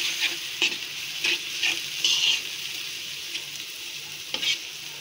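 Lotka fruit fries in a pan as turmeric and chili powder are stirred in, a soft steady sizzle broken by several brisk clicks and scrapes of the spoon against the pan.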